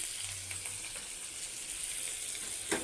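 Potato pieces fry in a pan with a constant hiss and sizzle, close and even, with a sharp little clatter near the end and no voices.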